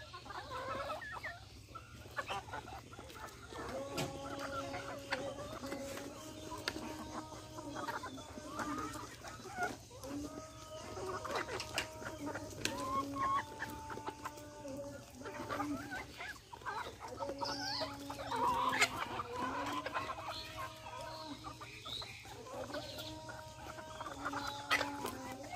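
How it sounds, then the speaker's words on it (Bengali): Desi chickens on a farm cluck and squabble while feeding, a continuous flock chatter of repeated clucks and calls, fairly faint and distant, with occasional other animal sounds. "দেখেন মুরগিগুলো কিভাবে খায়, কাড়াকাড়ি করে খাচ্ছে।"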